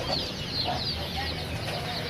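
Chickens cluck at a Sunday bird market in Lahore, a steady murmur of fowl sounds with brief higher calls over constant crowd and market background noise.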